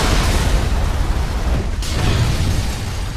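A rocket explosion in the video game Resident Evil 5, a loud sustained blast with a dense rumbling roar that fills the whole moment.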